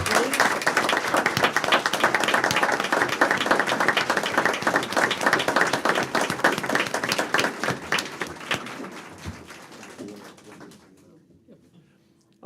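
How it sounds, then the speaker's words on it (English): A school board meeting audience applauds the North High School top 10 students, a dense, sustained round of clapping that thins out and fades near the end, with a few voices mixed in. "round of applause, please"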